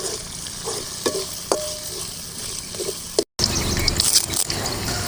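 A cup of torn mint leaves sautés in hot oil with a continuous close sizzle and occasional stirring scrapes, interrupted by a brief cut to silence before the frying resumes.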